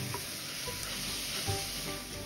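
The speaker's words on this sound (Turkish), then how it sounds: "rendelediğimiz havuçlarımızı alıyoruz ve 1-2 turda havuçlarımız yumuşayana kadar kavurmaya devam ediyoruz" Grated carrots and onions sizzle and fry in a pot, a steady dense crackling hiss with faint stirring, continuous and close.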